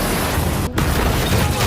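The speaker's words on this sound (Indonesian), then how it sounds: "Sabo justru diam-diam menyimpan peledak pada punggung Zhao hingga membuatnya maut saat itu juga" An explosive hidden on a man's back detonates in a film scene, a loud, dense roaring blast that briefly cuts out and then carries on as a heavy, sustained rumble.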